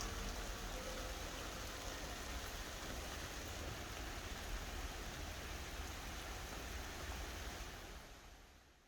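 Steady rain falls on a thick blue tarp laid over roof sheathing, a dense, even hiss with low rumble that holds constant, then tapers off softly near the end.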